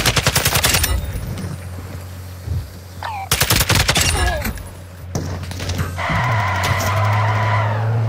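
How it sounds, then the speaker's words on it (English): Gunfire in the video game Hunt: Showdown: loud bursts of rapid shots in several separate volleys with short pauses between, followed by a rumbling engine-like drone, close and sharp. "Taking fire over here!"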